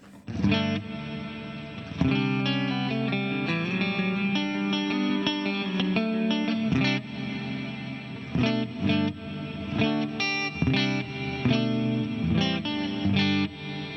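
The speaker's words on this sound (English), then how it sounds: "as long as I'm playing, I don't have reverb. And when I stop playing, the whole tail comes back" Distorted electric guitar plays effect-heavy chords and notes through a TC Electronic Hall of Fame 2 reverb pedal ducked by a sidechain compressor, so the reverb tail swells in during the short pauses between phrases.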